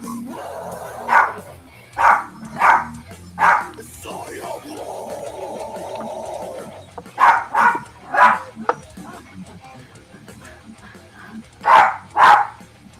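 A dog barks in repeated short bursts, pairs and triplets of loud nearby barks separated by gaps, with a stretch of steady humming or vocal tone between them and some background chatter.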